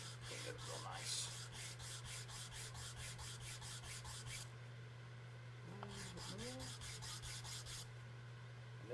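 A viola bridge being sanded with 220-grit sandpaper, quiet rhythmic rasping strokes in two bursts with a pause between, over a low steady hum.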